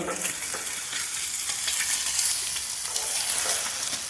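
Eggs fry in a pan while being stirred. A bright, steady sizzle runs throughout, with scraping stir sounds mixed in.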